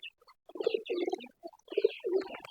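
Pigeons coo nearby in a loft, a few soft, rolling coos in quick succession with brief gaps, calm and close.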